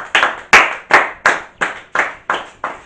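A church congregation claps in a steady, even rhythm to acclaim the Lord, with about eight crisp, close unison claps in quick succession.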